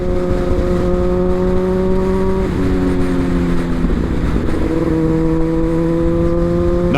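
A Kawasaki ZX-10R motorcycle with a quick shifter and full titanium exhaust revs hard and loud, with sustained engine howls broken by quick-shift drops in pitch.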